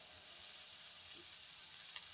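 Light soy sauce sizzling in a hot pan for pancit canton, a steady bright frying hiss that holds evenly throughout with faint stirring underneath.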